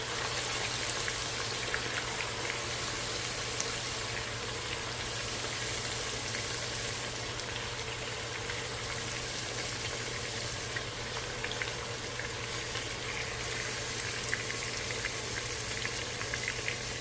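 Pork browning in hot grease for pork with purslane in red sauce, a steady soft sizzle and crackle of frying that runs evenly throughout at moderate level, with a low constant hum underneath and no talking.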